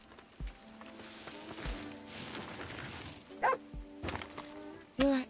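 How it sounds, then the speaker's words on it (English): A dog character barks a few times in the video game Beast of Reincarnation, short sharp yips standing out over a steady game soundtrack and ambient effects. "Did you find something? I heard him barking."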